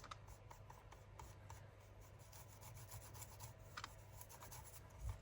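An ink pad rubbed over paper for a grungy junk journal page gives a soft, continuous scratchy rasp with small irregular strokes, close and quiet, with no talk.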